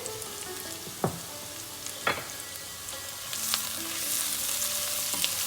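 Onions fry with salt in a pan, a loud, even sizzle close at hand, punctuated by a few scraping stirs that thicken into a brighter hiss toward the end.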